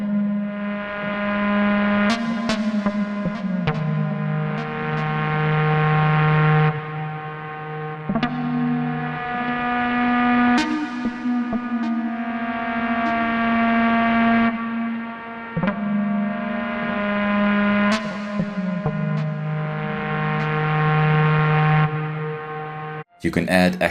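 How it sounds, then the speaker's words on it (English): Long sustained synth notes pass through a Plasma Drive distortion, each held tone slowly swelling with gritty harmonic buzz, loud and continuous with occasional sharp transient clicks between notes. "This envelope slowly brings the distortion back on long sustained notes."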